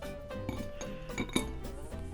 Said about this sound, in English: get yourself a nice cube of ice